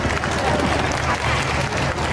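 An audience at a school end-of-year performance breaks into steady, dense applause, a continuous wash of many hands clapping at once with some crowd noise beneath it.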